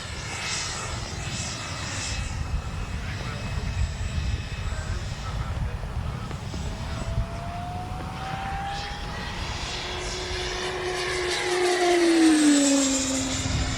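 A Freewing Mirage RC jet with SMC battery packs powers up on a runway, its steady engine roar building and swelling louder toward the end, with faint voices in the background.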